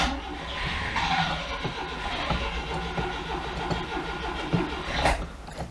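Oltcit car engine cranking over and almost catching, running on fuel it dislikes from a jump pack: a continuous churning mechanical drone with a brief louder surge near the end, no voices.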